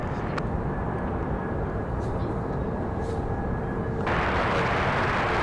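A JetBlue Airbus A321neo jet at Raleigh-Durham International Airport gives a steady, broad roar that swells noticeably louder near the end, heard at a distance across the airfield.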